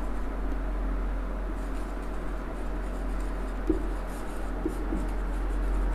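Pen scratching steadily across paper while a geometry lesson on locus is noted down, a continuous soft writing sound heard alone over a faint room hum.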